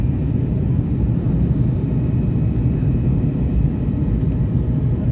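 A passenger airplane landing at Kraków fills the cabin with a loud, constant low engine and air rumble that holds steady throughout, with no voices.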